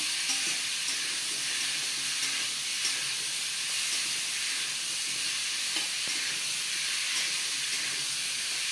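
Raw mango chutney cooking in a pan, stirred with a steady sizzle and hiss of frying and steam that run unbroken and close with no talk, and the scrape of the stirring is not clearly separable.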